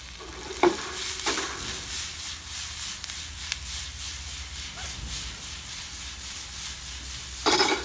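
Chopped red and yellow capsicum fries in crab tandoori masala, making a soft continuous sizzle and hiss with a few sharp clinks of a stirring spoon, faint and alone without talk.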